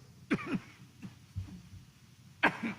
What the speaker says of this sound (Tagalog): hindi po kasama sa sermon yung ubo